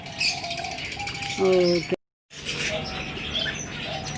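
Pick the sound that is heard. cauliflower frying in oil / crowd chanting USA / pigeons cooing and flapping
pigeons cooing and flapping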